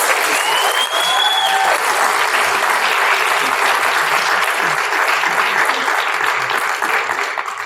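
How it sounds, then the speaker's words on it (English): Sustained applause from an audience at a public speaking championship, a dense steady wash of clapping that holds evenly throughout at full level. "Can we give all of them a round of applause?"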